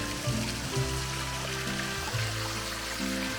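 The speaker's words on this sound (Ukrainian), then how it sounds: "Тут цілий водоспад, бачите." A waterfall stream in the Carpathian mountains makes a steady, close, gurgling and trickling flow of water, continuous and moderately quiet, with no talk.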